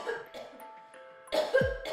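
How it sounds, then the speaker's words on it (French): One short cough, close and clear, breaks over a quiet background of faint tones, following a brief stretch of soft low voice. "puis tousser."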